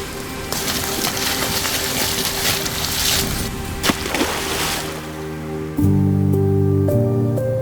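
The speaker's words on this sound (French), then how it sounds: "Alors lorsqu'enfin la pluie revient" Steady rain falls with an even, hissing patter for several seconds before sustained music replaces it.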